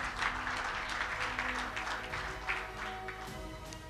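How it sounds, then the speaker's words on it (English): A conference audience at a mining finance panel gives warm applause as a panelist comes to the platform. The clapping is dense and sustained over four seconds, fairly loud, with a faint crowd murmur and a low steady hum beneath. "please give him a warm round of applause"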